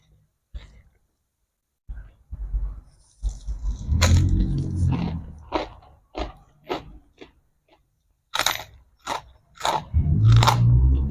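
A spicy Thai pounded salad with crunchy squid cartilage and pork rinds is eaten close up, with loud, sharp crunching bites in irregular bursts separated by quiet pauses and slower chewing.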